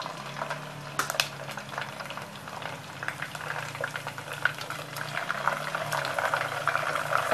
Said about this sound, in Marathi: त्याच्यामध्ये आपण साबुदाणा तळून घेणार आहोत.